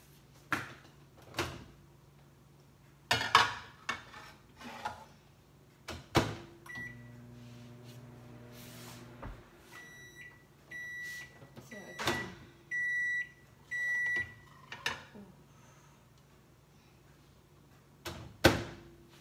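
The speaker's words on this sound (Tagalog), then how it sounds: "we will put this back in the microwave for 1 minute and 30 seconds" A microwave oven heating mac and cheese in a mug hums with clicks and door bumps, then emits a series of short electronic beeps; some soft handling noises and faint voice nearby.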